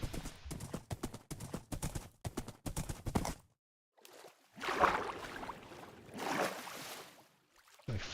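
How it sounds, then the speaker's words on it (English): In Minecraft, a horse goes for a swim: a quick run of close hoof clip-clops gives way after a short pause to soft whooshing water splashes, with no talk over them. "Let's go for another swim, horsey."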